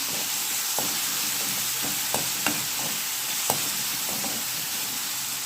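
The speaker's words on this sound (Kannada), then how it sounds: "ಟೊಮೆಟೋನ ಈ ರೀತಿ ಮಿಕ್ಸ್ ಮಾಡ್ಕೊಳ್ಳೋಣ" Tomatoes with salt fry and sizzle steadily in a pan as they are stirred, with a continuous hiss broken by a few soft clinks and scrapes of the spoon against the pan.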